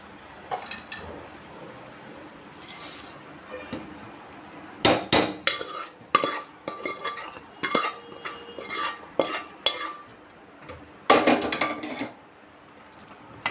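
A ladle stirs a fried tempering into pappu pongal in a metal pot, giving irregular loud scrapes and clanks against the pot's sides in clustered bursts, with quieter gaps between.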